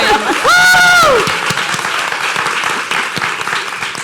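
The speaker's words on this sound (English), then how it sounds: "Let's have a round of applause for Haley's parents." An audience at a live age-panel event claps in sustained applause. A brief whoop or cheer rises over the start, and the clapping stays dense and loud throughout.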